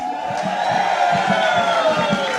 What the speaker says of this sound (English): Can you cheer him again, please?